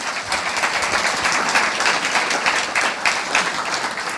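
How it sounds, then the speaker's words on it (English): An audience at a pitch-competition evening applauds the event partners with a sustained, even burst of clapping from many hands. "Let's have another big round of applause for them."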